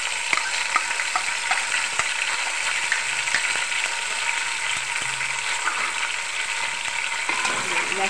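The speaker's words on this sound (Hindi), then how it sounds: "लहसुन अदरक के पेस्ट में गोश्त को जो है वो अच्छे से ब्राउन कर लेंगे।" Beef browning in garlic-ginger paste in a pot for nihari, a dense, even sizzle with faint scraping and clicks from stirring throughout.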